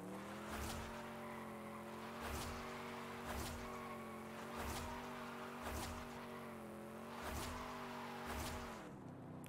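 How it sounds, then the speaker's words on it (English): A stock 1960s Chevy Impala in Forza Horizon 5 revs through repeated burnouts, its engine droning steadily while tire squeals flare in regular bursts about every second and a half, loud and close with no talking. "Oh, definitely can do some burnouts, guys."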